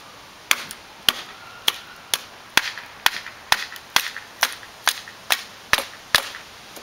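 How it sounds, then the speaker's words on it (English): Repeated sharp cracks of a knife being batoned into a big, wet stick of wood after a rainstorm, about a dozen evenly spaced strikes in under seven seconds, close and crisp with no talking. "I'm gonna try to baton into it, get to some dry stuff, and start a fire"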